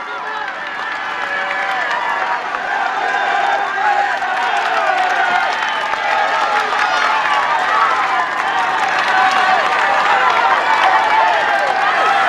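Dense roadside crowd cheering and shouting continuously as riders climb a Tour de France mountain stage, a loud, steady wall of voices with no pause.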